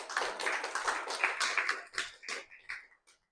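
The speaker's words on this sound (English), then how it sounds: "Give a round of applause." A small audience at a county clerk's office exhibit opening claps briefly, the scattered applause fading out over a few seconds into silence.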